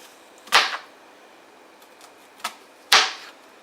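A knife chops food on a cutting board while making falafel, giving three sharp, close taps spaced apart over a quiet background.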